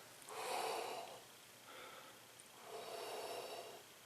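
Two deep breaths drawn in during a trumpet breathing demonstration, each a soft airy rush lasting about a second, close and quiet with a pause between them and no talking.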